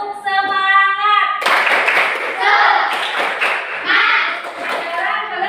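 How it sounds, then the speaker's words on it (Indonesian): A school class performs a rhythmic spirit clap together, bursts of unison claps in a patterned beat following a short sung or chanted tone, with children's voices mixed in. "Kita tepuk semangat dulu ya."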